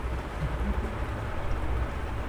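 Soft, steady patter of rain falling on a mat, a continuous hiss with low rumble underneath, fairly quiet and unbroken.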